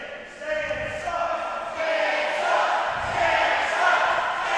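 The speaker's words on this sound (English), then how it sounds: "And the chanting's already begun." A wrestling crowd at a live main event chants in rhythmic surges, a dense roar of many voices rising and falling continuously through the arena.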